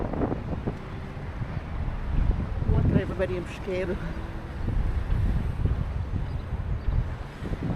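Wind buffets the microphone on a sunny coast in São Miguel, near Pesqueiro, a rough low rumble that swells and eases throughout while someone speaks briefly over it.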